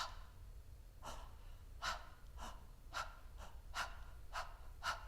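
Panting breaths in a voice-training breathing exercise during a vocal master class: about seven short, sharp, close breaths in an uneven rhythm, each a quick airy puff with quiet pauses between and no talking.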